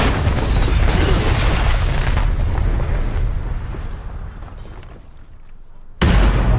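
A rocket explosion in the Black Adam movie trailer produces a massive, loud boom and rumble that slowly fades over several seconds before being abruptly cut off by another loud burst.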